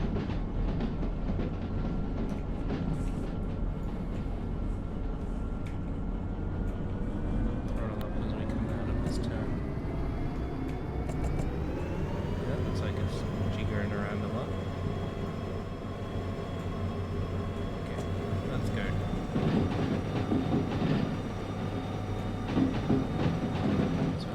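A locomotive at full throttle in the Derail Valley train game, a loud continuous engine drone that rises in pitch as it speeds up, with faint rail clatter and someone talking over it.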